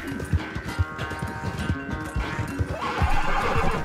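A horse in the video game Red Dead Redemption 2 whinnies loudly over a steady, close run of galloping hoofbeats that continues throughout.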